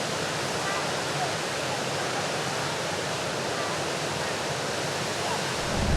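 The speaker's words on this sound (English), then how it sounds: "That way, we arrived at a popular waterfall." A popular waterfall at the end of a narrow trail through a plantation on São Tomé roars steadily and loudly, a continuous dense rush with no voices over it.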